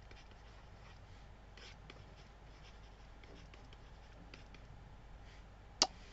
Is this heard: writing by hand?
yes